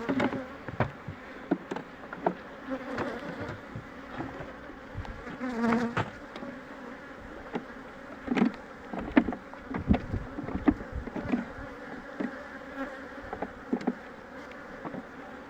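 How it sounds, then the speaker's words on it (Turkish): Honeybees buzz steadily and close by while a beehive is split, a dense droning hum with individual bees passing near, alone without talk. "Böyle işte arkadaşlar iki petek arıyı koyuyoruz. Bir petek arı da silkeliyoruz."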